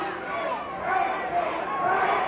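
A wrestling crowd at the Bobby Jaggers versus Karl Steiner match yells and chants together, with a steady, roaring mass of voices filling the hall.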